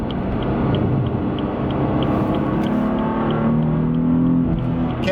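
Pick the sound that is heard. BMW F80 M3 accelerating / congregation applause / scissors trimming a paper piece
BMW F80 M3 accelerating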